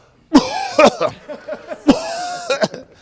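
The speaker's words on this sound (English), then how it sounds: "I think I done found a cough over there" Two sharp, loud coughs up close, each followed by a few smaller hacking coughs, with a short pause between the bouts.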